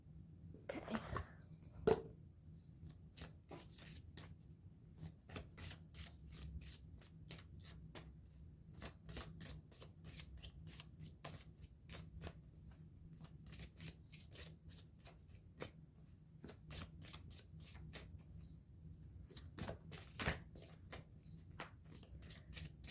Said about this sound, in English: Shuffles for a while.